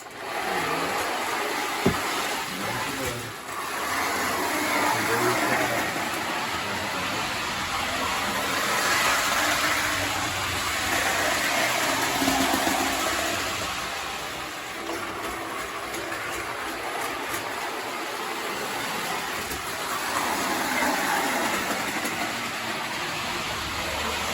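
Marx M10000 toy train engine running on a layout, a steady loud whirring motor drone with rolling wheel rumble that swells and eases as it circles, with occasional clicks.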